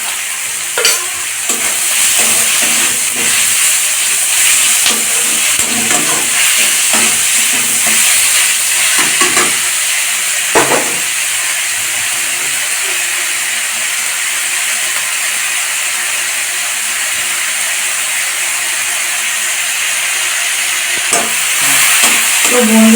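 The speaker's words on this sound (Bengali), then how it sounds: "পেঁয়াজটা একটু ভেজে নেব। লবণ দিয়ে দিচ্ছি।" Onions fry with salt in a pan, giving off a loud, steady sizzle and hiss with scattered scrapes and knocks from stirring, mostly in the first half, and no voices.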